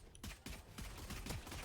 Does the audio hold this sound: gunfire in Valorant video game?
yes